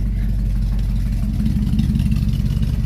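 A 1969 Buick Skylark GS 350 V8 idling close by, a loud, steady low rumble with a slightly uneven lope and no other sounds over it.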